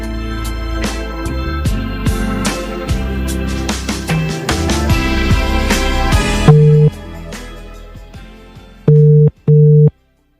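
Telephone busy signal on an outgoing call, loud repeating tones that continue over a noisy line, then end with a few clean evenly spaced beeps.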